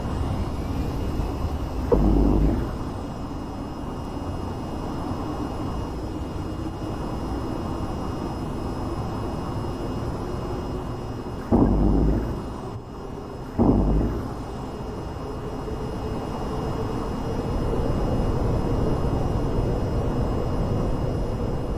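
A jet aircraft flies low in the VTOL VR video game, producing a steady engine roar with a few sudden thumps and surges along the way, and no talk over it.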